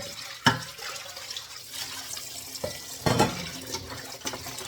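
Chicken feet are washed under a running kitchen tap: a soft, close stream of water with occasional splashes and clatters as the feet are handled, fairly quiet and without talk.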